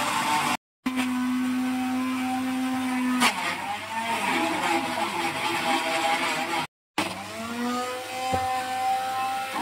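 A mixer grinder blending rose milk whirs loudly and steadily, its motor tone shifting as it runs, with brief pauses where it stops and restarts.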